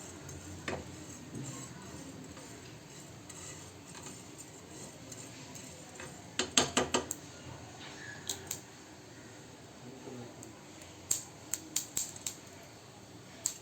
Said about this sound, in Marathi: खमंग असे हे जवस भाजून घेऊया